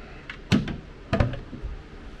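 Galley drawers for pots and pans on a 59-foot offshore yacht slide and thud shut, two distinct close knocks about half a second apart with light rattling after each.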